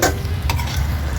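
A spoon scrapes and stirs chicken liver menudo in a hot pan, a short burst of loud, close clatter over a soft steady sizzle, with no voices.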